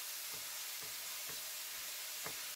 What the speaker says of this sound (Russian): Добавляю нарезанный лук и пассирую его в течение 10 минут, время от времени перемешивая его лопаткой